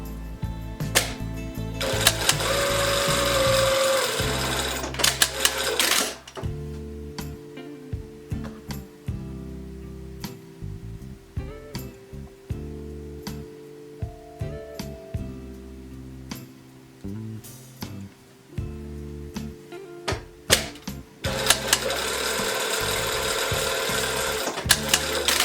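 A sewing machine stitching the shoulder seams of a blouse, running in a steady whirring burst, then a series of short stop-start stitching runs, and ending with another long continuous run.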